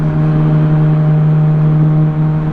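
Motorcycle engine held at a steady low idle hum in heavy traffic as the rider rolls the throttle gently, a loud continuous drone with no rise in revs.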